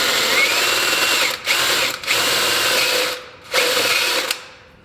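A power drill bores a hole in metal clamped in a vice, its loud, close whine running in several bursts split by short pauses and trailing off at the end.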